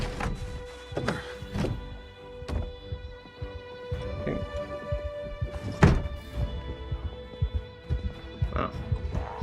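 Zombies banging in a survival horror video game, dull irregular thuds and knocks recurring over several seconds against a low hum.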